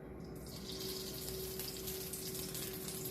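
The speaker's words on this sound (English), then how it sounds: "we'll come over here to see if the pan is nice and hot. It looks really nice and hot, so we'll just pour our butter" Melted butter is poured into a hot pan for chicken, giving a steady, quiet hiss and sizzle with a faint watery pouring sound, and no talking.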